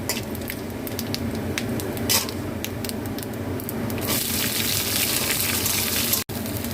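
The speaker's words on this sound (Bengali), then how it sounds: "এই আমি পেঁয়াজটা ভাজা হয়ে এসছে" Chopped raw onion fries in oil with cumin, fennel and chilli, a continuous sizzle that grows louder and brighter partway through, with a few sharp crackles and no talking.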